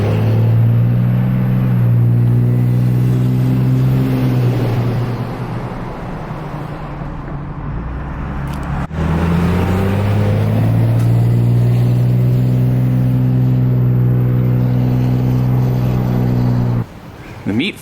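Turbo diesel engine on a 1967 Dodge Coronet project rumbling loudly with a deep steady drone, dipping briefly midway then returning strong, sustained nearly throughout before cutting off near the end.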